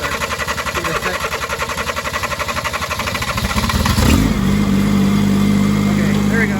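Skyjack scissor lift engine cranking with a rapid rhythmic chug and misfiring, then catching and settling into a steady running drone, loud and close, with talk heard during the start.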